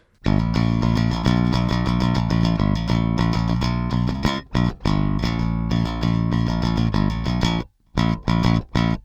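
A Fender Jazz Bass through an Ampeg SGT-DI preamp pedal plays a busy line of repeated notes, loud and close, with a full, slightly driven tone and a couple of brief pauses.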